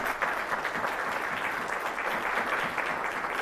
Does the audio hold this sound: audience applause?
yes